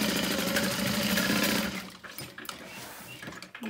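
A sewing machine back stitches a curved side seam on a handbag, a dense rapid mechanical hum that runs steadily, then breaks into shorter uneven bursts.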